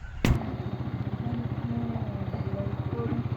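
A motorbike sets off on a night ride toward Kerala. A sharp thump is followed by a steady, close, rhythmic engine putter that continues evenly to the end.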